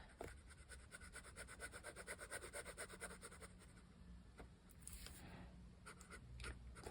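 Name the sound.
fountain pen drawing on paper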